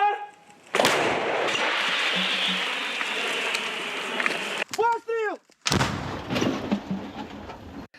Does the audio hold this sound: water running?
no